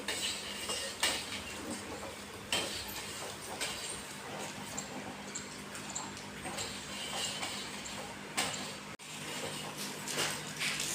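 A ladle scrapes and stirs a thickening mixture in a pot, working up from the bottom so it does not stick. The metallic clinks and scrapes repeat steadily and closely over a continuous background hiss, with no speech.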